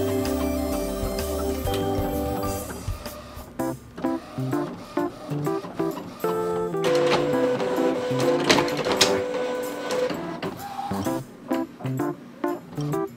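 A printer pulls paper through smoothly after its feed rollers were cleaned, with whirring motor runs and rhythmic mechanical clicks and clunks repeating close up, with no talking.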